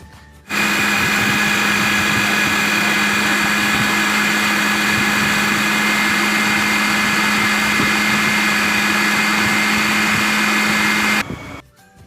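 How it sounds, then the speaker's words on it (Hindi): An electric chopper runs continuously for about eleven seconds, chopping garlic, ginger and green chillies with a loud, steady motor whine and a rough churning texture, starting and stopping abruptly, close by with no talking. "इस चॉपर में लहसुन, अदरक और हरी मिर्चें डालकर इनको चॉप कर लेंगे अच्छे से"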